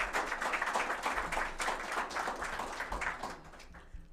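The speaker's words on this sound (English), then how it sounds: "that also deserves a round of applause for people who are doing that" Sustained audience applause at a digital transformation awards ceremony, dense steady clapping from many hands that carries on for several seconds before thinning out at the end.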